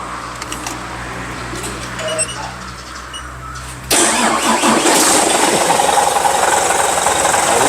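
A Volvo FM12 truck's swapped-in Hino E13C 380 hp diesel engine cranks and catches, then settles into a loud, rough, steady idle with a knocking rumble, nothing else heard.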